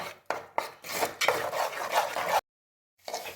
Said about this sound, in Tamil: நல்லா இதை மசிச்ச கடலைப்பருப்பு தேங்காய் எல்லாம் ஒன்று போல் நல்லா கெட்டியாக கிண்டணும்